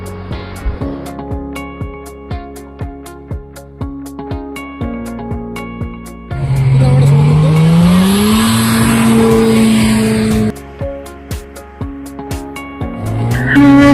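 A snow bike runs in the Kashmir snow: a regular ticking, clattering idle is followed by a loud, close engine roar that climbs in pitch for several seconds, then drops back to the clatter.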